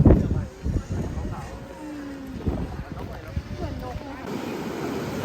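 Waves and wind at a seaside in Chonburi, Thailand, a steady broadband wash of surf with gusty wind noise on the microphone, close and continuous, with someone talking over it at times.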